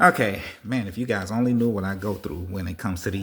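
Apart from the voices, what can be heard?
No everyday noise stands out behind the speech.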